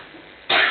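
One short, fairly loud cough comes from someone in the audience at an English-speaking class event, following a moment of quiet room tone.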